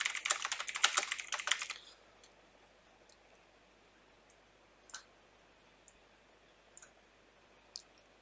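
Typing on a computer keyboard: a quick flurry of close, crisp key clicks for about two seconds, then near quiet broken by a few isolated single keystrokes.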